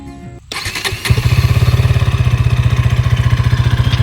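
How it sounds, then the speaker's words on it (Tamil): A KTM Duke 160 motorcycle engine starts up after a brief quiet moment, then settles into a close, steady idle with an even, rapid thumping rhythm. "இப்போ அந்த பைக்கோட சவுண்ட் கேட்கலாம்"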